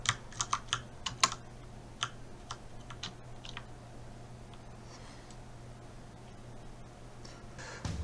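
Computer keyboard keys are pressed in a quick burst of sharp clicks, then go sparse and stop, with a steady low hum underneath.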